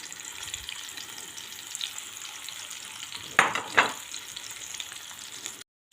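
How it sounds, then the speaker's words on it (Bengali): Oil sizzles steadily in a pan, with two sharp spattering crackles midway as pieces go in, close and fairly loud, no talking. "এখন একে একে মাছগুলো এখানে দিয়ে মাছগুলোকে আমি ভেজে নেব।"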